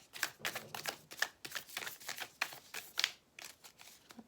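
A deck of cards is shuffled close by, a long run of rapid riffling bursts and soft card slaps in an uneven rhythm, with no talking.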